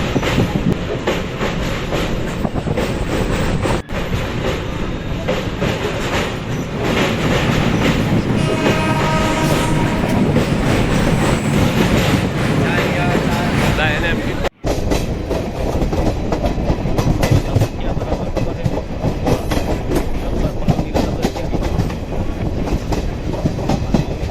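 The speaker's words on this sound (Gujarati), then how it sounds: "સાબરમતી નદી છે એના ઉપરથી આપણી ટ્રેન જઈ રહી છે" Intercity superfast express 22959 rolls over the Sabarmati river bridge, heard from on board as a steady, loud rumble with rhythmic clattering of wheels over the rails, continuous throughout.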